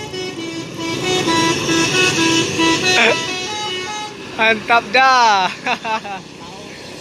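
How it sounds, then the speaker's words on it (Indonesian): A loud intercity bus with a jet-like aftermarket exhaust at a busy Sumatran city bus terminal at night. It starts with horn toots and a sustained engine roar, then a voice speaks over the steady exhaust noise. "Itu knalpotnya jet ya"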